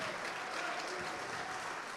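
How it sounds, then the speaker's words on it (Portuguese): Steady applause from a large church congregation indoors, a dense continuous patter of many hands clapping at once. "Vamos aplaudir mais, igreja."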